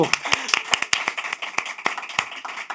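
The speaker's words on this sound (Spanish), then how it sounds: "Bebés, un aplauso para Emiro" Small group clapping for a guest named Emiro on a talk show set, distinct sharp claps at an uneven, loosening rhythm, close and fairly loud, with light voices mixed in.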